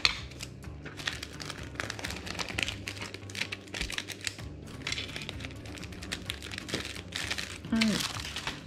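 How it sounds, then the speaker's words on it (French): Adhesive tape is pulled off a roll and pressed down while assembling a sticker storage binder, a steady close crackle and rasp of peeling and sticking that runs throughout, with faint talk near the end. "On va mettre un peu de scotch."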